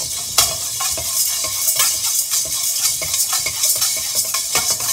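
Black peppercorns dry-roasting in a pan for temple-style pulikachal, a constant close rattle and scrape of small hard grains stirred against hot metal, with light sizzling and no voices.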